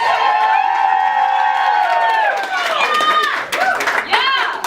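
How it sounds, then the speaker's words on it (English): An audience at a literary salon show erupts in loud cheering and whooping over clapping, with voices rising and falling in excited shouts close by. "It says pause for wild applause on my script."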